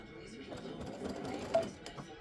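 Embroidery machine stitching with black thread on a freestanding-lace butterfly earring design, a steady rapid mechanical whir with fine needle chatter, close and moderately loud, with no talk over it.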